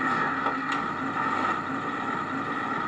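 The simulated engine of a 1/6 scale Armortek Series 1 Land Rover model idles at a steady, low hum, even and continuous for a few seconds with nobody speaking.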